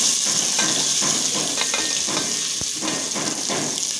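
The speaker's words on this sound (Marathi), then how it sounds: "कांदा चांगला परतून घ्यायचा." Onion sautéing in oil with cumin in a pan for an Indian whole masoor lentil dish, a steady close sizzle with repeated stirring scrapes and one sharp utensil knock partway through.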